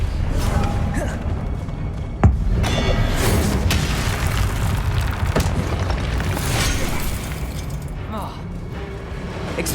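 Confringo spell explosion in Hogwarts Legacy, a sharp boom amid dense continuous game noise and combat effects, with a voice calling out over the busy mix.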